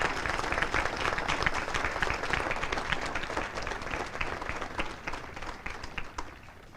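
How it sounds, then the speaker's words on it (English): A crowd at a military Advanced Camp graduation ceremony applauds the awardees, a steady, moderately distant wash of clapping that holds evenly and tapers slightly toward the end. "please join me in giving our awardees a round of applause"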